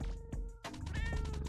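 The Elder Cat meows in the video game Hypnagogia, two short, clear meows with a more drawn-out cry in the second half, close and alone.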